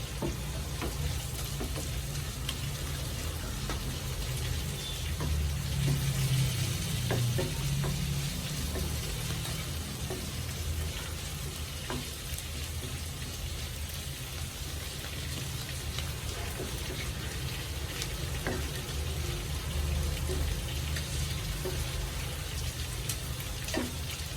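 Oil sizzles in a pan while frying for a potato roast, a steady, close crackling hiss that continues evenly with small pops scattered through it.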